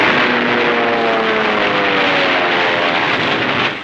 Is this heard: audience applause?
no